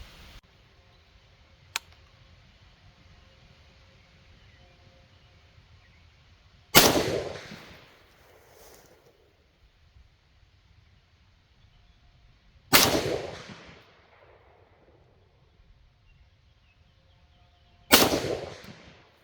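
Three loud rifle shots from a JLD PTR 91K, a G3-style rifle, spaced several seconds apart, each a sharp crack followed by a rolling echo over a quiet outdoor background.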